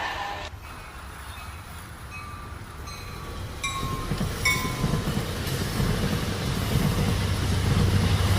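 A train runs along the rails, a rumbling roll that grows steadily louder with brief squeals and clicks, no voices.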